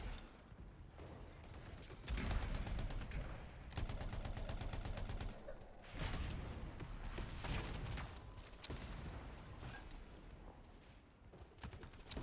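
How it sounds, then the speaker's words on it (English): Gunfire in the Anthem video game, rapid bursts of heavy shots and booming blasts in quick succession over a busy combat soundscape, loud and continuous with brief lulls. "Shotgun."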